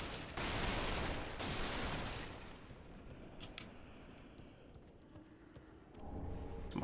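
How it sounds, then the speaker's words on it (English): Fire bombs are thrown in the video game Dark Souls III, with loud bursts of fiery blasts and crackling at the start and end, and a quieter rushing roar in between. "Some more fire bombs."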